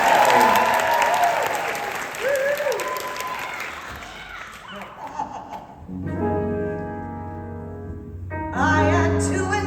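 An audience at a Broadway fan convention applauds, with voices and some laughter mixed in. Sustained musical tones follow in the second half.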